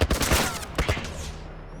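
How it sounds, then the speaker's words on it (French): In The Last of Us, a military turret fires a rapid burst of automatic gunfire, the loud rattling shots crowding together and then fading out in under two seconds, with no talk. "Un genre de tourelle militaire!"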